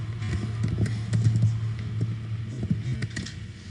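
Computer keyboard typing, a quick irregular run of light key clicks over a steady low hum, close and moderately quiet.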